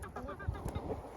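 Backyard chickens, several hens including a small one, clucking softly at close range in short overlapping bursts with low murmurs throughout.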